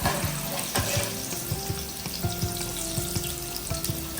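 Shallow-fried vegetables for veg biryani sizzling in oil as they are lifted out, a continuous crackling fry with repeated light spatula taps and scrapes against the pan.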